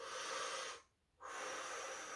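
Slow, deep breaths drawn in and let out for pain relief during labour contractions, a long steady airy exhale, a brief quiet pause, then another long breath, close and fairly loud with no talk.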